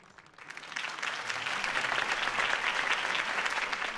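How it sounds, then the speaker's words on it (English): Crowd applause and cheering swell up after a campaign speech at a political rally in Batman: The Telltale Series, a dense steady clapping that rises quickly and holds loud to the end. "If only Mr. Wayne, my campaign's largest backer, could have heard that applause"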